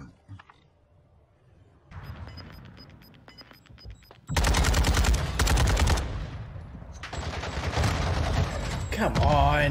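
Rapid automatic gunfire rattles through a video game gunfight, with dense bursts that start and stop and land loud and close.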